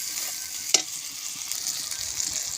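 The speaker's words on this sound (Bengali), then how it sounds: "এরপর আমি দিয়ে দেবো টমেটো কোচানোটা, যাতে টমেটোটা সুন্দরভাবে ভাজা হয়ে যায়।" Chopped tomato fries with spices in a hot pan, giving a close, steady high sizzle with one sharp clink near the start and faint stirring scrapes underneath, with no voices.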